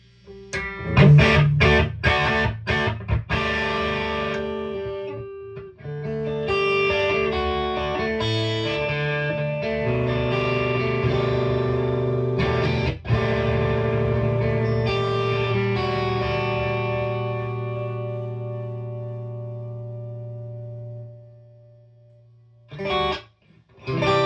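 Electric guitar through a 1987 Marshall Silver Jubilee tube amp, warm and driven: sharp strummed chords up front, then a long sustained chord ringing out before a few final hits.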